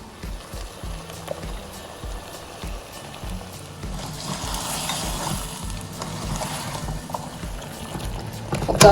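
Ground masala paste for Chettinad chicken frying in a pan gives a sizzle that swells after a few seconds, with busy stirring clatter and knocks all the way through.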